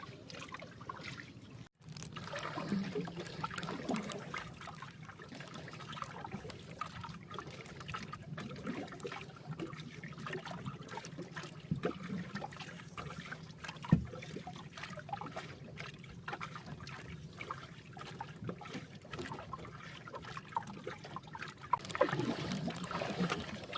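A rowboat paddled at dawn through strong wind and rough waves, with steady wind rush and water sloshing against the hull throughout, a brief drop near the start and small knocks and splashes scattered across.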